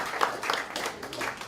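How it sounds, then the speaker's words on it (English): Light, scattered clapping from a small audience at a campaign event for a Secretary of State candidate, a few sparse hand claps at low volume. "You can clap, it's okay."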